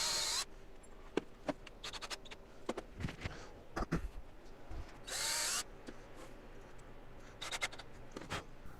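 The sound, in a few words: drilling and screwing tabletop fasteners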